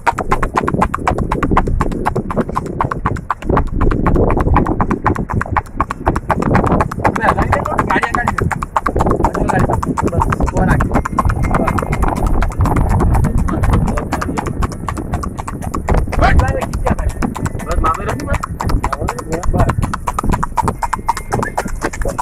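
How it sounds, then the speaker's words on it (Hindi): A heavy Sindhi horse moving in a rewal gait clip-clops in a quick, even, close hoof rhythm that continues throughout, with people talking over it. "वाह घोड़ा वाह।"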